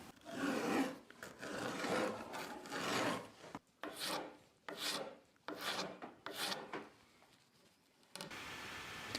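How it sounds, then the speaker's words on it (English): A rasp cuts dry, hardened wood glue on a red oak recurve bow, with close, loud rhythmic rough strokes in bursts separated by brief pauses. "Now that this glue is dry and hard, I can cut it with my rasp."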